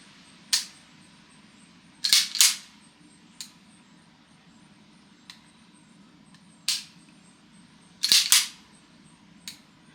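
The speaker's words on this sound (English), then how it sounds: "So here's the trigger, gun is empty." Dry-fire trigger pulls on an empty 1911 pistol with a light trigger: sharp, crisp metallic clicks in small clusters, a pull followed by a snappy reset, repeated twice with faint ticks between, close and quiet.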